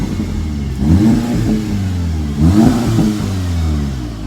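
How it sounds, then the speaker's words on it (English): A VW Golf R Mk7.5 fitted with an Akrapovic exhaust, set to race mode, revs twice up from idle. The deep, loud engine note rises and falls each time, heard up close with no talking. "Give it a couple of revs."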